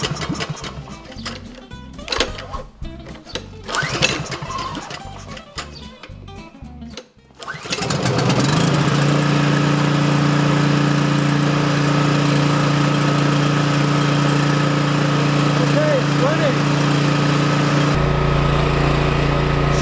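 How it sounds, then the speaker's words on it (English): A Coleman Powermate 5kW generator with a Subaru/Robin engine is pulled several times with rattling recoil tugs, then catches at about seven seconds and settles into a loud, steady running drone close by. "So the generator has started"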